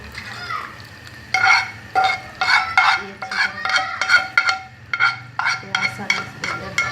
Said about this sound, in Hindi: प्याज ब्राउन हो गया, अब मैं तड़का लगाने लगी इसको